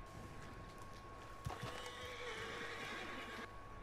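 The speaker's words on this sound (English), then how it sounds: "Some horses?" Horses in Red Dead Redemption 2 neigh and whinny, a sharp whinny rising mid-clip over a faint clip-clop of hooves, heard at moderate distance in a quiet game world with no speech.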